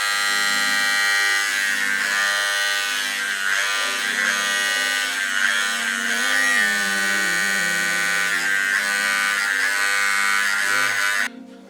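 Electric hair clippers running steadily during a self haircut, a loud close continuous buzz with slight wavering as they move through hair, cutting off abruptly at the end.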